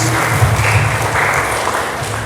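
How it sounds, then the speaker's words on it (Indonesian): Applause from a religious study gathering of students' parents at Darussalam Waturingkel, praising a student named Indah: dense, steady clapping from a group, moderately loud and continuous throughout. "tepuk tangan untuk Indah"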